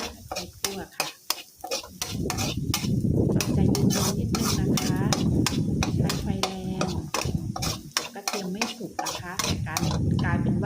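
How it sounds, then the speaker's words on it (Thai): Garlic and chili dry-roasting in a pan as a utensil stirs and scrapes in quick repeated strokes over a low sizzle, close and continuous, with someone talking throughout. "เราใช้คำว่า คั่วกระเทียม คั่วให้เหลืองนะคะ"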